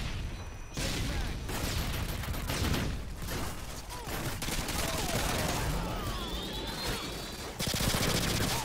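Bursts of automatic gunfire and rapid shots from Modern Warfare 2 (2009) on Xbox, dense and loud throughout, with a faint voice underneath at times.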